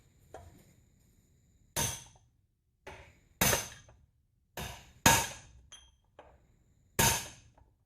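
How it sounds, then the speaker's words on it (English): A little sledgehammer drives studs in through a half-inch extension rod: a series of sharp, loud metallic strikes spaced irregularly, with a few lighter taps in between. "I just use an extension, half-inch extension rod and a little sledgehammer, and just hammer in the studs"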